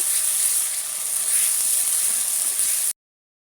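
Onion, garlic, dried chili and cumin paste hits a hot wok with a steady, close, bright hiss and sizzle that holds evenly for about three seconds before cutting off abruptly.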